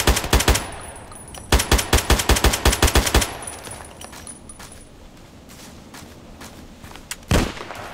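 An AKMS rifle in Contract Wars fires loud, close automatic bursts: a short volley, a longer rapid string of about a dozen shots, then one more shot after a pause.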